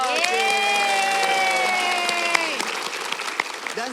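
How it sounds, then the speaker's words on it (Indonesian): Studio audience on an Indonesian television health talk show applauds a guest named Conchita, with steady clapping and some cheering over a sustained musical chord that fades midway, ending in scattered claps. "Tepuk tangan yang meriah buat Conchita."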